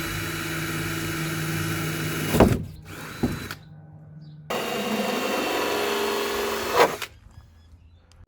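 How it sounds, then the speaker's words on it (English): Power tool driving and tightening a bolt during a Toyota Supra BN Sports body kit install, loud close whirring bursts that stop and restart with brief pauses. "Just tighten up the bolt now."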